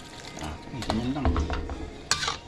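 Bihon noodles being stirred in a cooking pan, with close scraping and tossing sounds over a light sizzle and a sharp clink near the end, with no talking.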